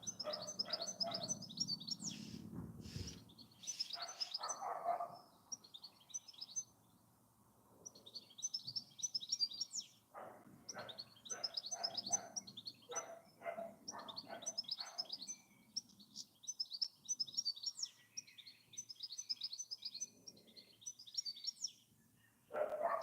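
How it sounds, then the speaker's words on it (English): A European goldfinch and a Eurasian blackbird sing outdoors, with repeated bright twittering phrases and lower fluty notes, faint and somewhat distant, with short gaps between bursts. "A European goldfinch and a Eurasian blackbird. The goldfinch is getting very noisy out there now."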